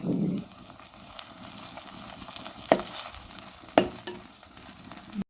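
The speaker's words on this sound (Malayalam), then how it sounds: "സവാള ഇട്ട് കൊടുക്കാം. സവാള നല്ലപോലെ ഫ്രൈ ആയതിനു ശേഷം തക്കാളി ആഡ് ചെയ്ത് കൊടുക്കാം." Onions frying in a pan for a Kerala-style mushroom roast with curry leaves, a soft steady sizzle with an initial louder burst and a couple of sharp clinks from stirring.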